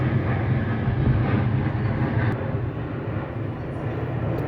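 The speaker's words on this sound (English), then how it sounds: "There's a plane." Airplane passing overhead as a loud, broad, steady rumbling roar that fills the whole stretch, heard outdoors with no talk over it.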